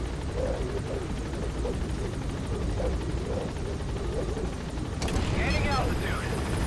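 A helicopter in Metal Gear Solid V: The Phantom Pain sits on station at a landing zone, its rotor throbbing steadily. A voice talks over it, and a louder burst of noise swells near the end.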